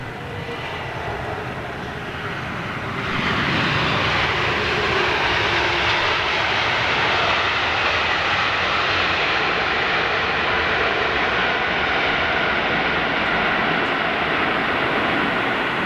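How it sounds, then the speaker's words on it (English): An airliner touching down at London airport engages reverse thrust, its engines swelling abruptly from a softer rush into a loud, sustained roar that holds steady, heard alone without voices. "let's see how long this one uses aero brake for"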